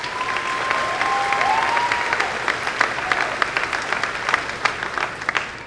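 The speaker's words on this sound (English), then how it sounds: "let us give these brave individuals a round of applause" Audience applause fills a graduation commencement ceremony after seniors enlisting in the Marine Corps and Kentucky National Guard are asked to stand, a steady dense wash of clapping from a large crowd with sharper individual claps and some faint voices throughout.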